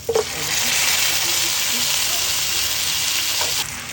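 Green chilies fry in hot oil in a pan, a steady loud sizzle and hiss that runs unbroken for a few seconds.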